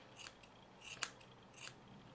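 Scissors snip around a yarn pompom in a few quiet, crisp cuts spaced roughly half a second apart, close up with no talking.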